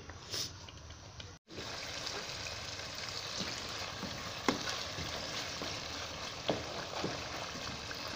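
Chicken karahi fries in ghee as it is stirred, giving a steady close sizzle with occasional soft clicks of the spoon against the pan.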